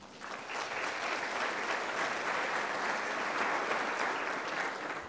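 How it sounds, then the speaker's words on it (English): Steady, dense applause from a large audience at a university welcome event, a continuous wash of many hands clapping that holds evenly for about five seconds, moderately distant. "So I think that deserves a round of applause."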